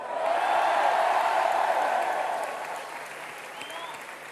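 A large crowd applauds loudly and steadily at a political rally during Emmanuel Macron's speech on the night of the French presidential election's first round, with the clapping slowly easing off toward the end.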